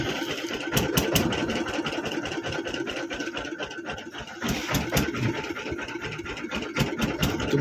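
Fishing boat engine on a tidal river in the Sundarbans chugs at a steady, rapid idle with a rattling mechanical clatter, close by and continuous, without speech.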